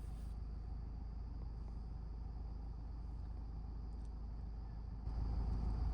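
A car reverses slowly under clutch control without braking, giving a steady low engine rumble that holds evenly throughout and swells slightly louder near the end.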